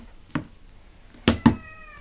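A cat meows three separate times, the last two close together and loudest, with a near, clear tone and quiet pauses between calls.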